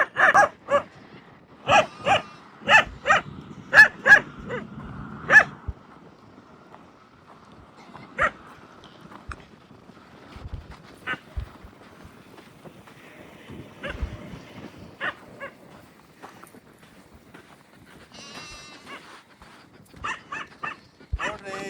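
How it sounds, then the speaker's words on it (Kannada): A goat-guarding dog barks in short bursts, several sharp barks close together near the start, then scattered barks later with quieter stretches between, at a village goat farm in Saudi Arabia. "ಗೋಟ್ಗಳನ್ನ ಪ್ರೊಟೆಕ್ಟ್ ಮಾಡುವಂತಹ ನಾಯಿ ಶ್ವಾನ ಮಹಾರಾಜ್."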